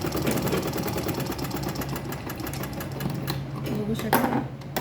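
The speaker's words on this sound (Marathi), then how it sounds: "आता मी दाखवते तुम्हाला कसं स्टिच करायचं" A sewing machine stitches a makeup box bag with a steady close mechanical whir and rapid needle chatter throughout, while someone talks over it.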